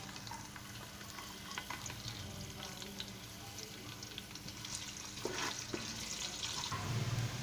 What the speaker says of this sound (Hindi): जैसे ही गर्म होगा तो मैं प्याज शामिल करता हूँ